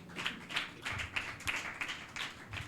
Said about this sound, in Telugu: చప్పట్లు కొడతాం దేవునికి